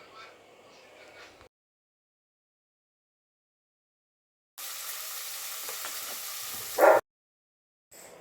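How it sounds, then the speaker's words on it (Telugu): Beans and tomatoes fry in oil in a home kitchen, a short soft sizzle, a pause, then a louder steady hiss for a couple of seconds ending in a clatter of stirring. "బీన్స్ టమాటా మంచిగా నూనెలో మంచిగా గోలాలండి"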